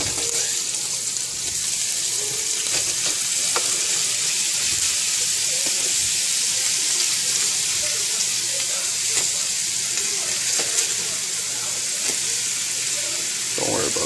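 Salisbury steak patties sizzling in a frying pan, a steady, bright hiss with faint crackles and occasional soft clicks running unbroken throughout, with no voices.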